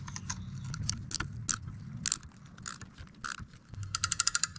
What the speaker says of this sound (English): flip your lever, put it in place, and just ratchet back and forth